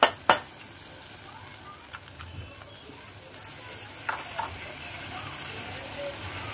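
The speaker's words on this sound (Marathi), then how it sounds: "गॅस बारीक करूया आणि सगळे मसाले छान परतून घेऊया" Spices for matar dal khichdi sauté in oil in a pan on a low gas flame, a soft steady sizzle with a couple of sharp spoon clinks and light stirring scrapes.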